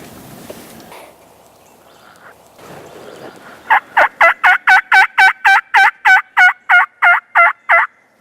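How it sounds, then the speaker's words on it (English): Wild turkey gobbling in the woods, a long run of about fourteen evenly spaced loud gobble bursts following a quiet stretch of faint rustling and low ambient noise. "The woods are quiet, just sporadic gobbling."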